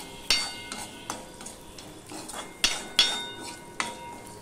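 Roasted, shelled peanuts stirred in hot oil in a pan, a spoon scraping and clinking against the metal in irregular strokes, with a soft sizzle underneath and no talking.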